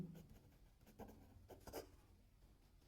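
A pen writes a math formula for the area of a right-triangle field on paper, making faint close scratchy strokes in short bursts in a quiet room.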